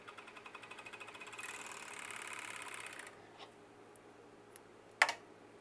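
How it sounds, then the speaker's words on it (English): A sewing machine stitches a sleeve onto a sublimated long-sleeve shirt, running in quick even pulses for about three seconds before stopping, followed by a sharp click near the end. "Now let's sew the sleeve"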